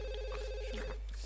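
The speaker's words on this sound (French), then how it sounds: "on va aller répondre au téléphone après" A telephone rings in The Sims 2 video game, a short electronic trill that is loud and close, heard alone.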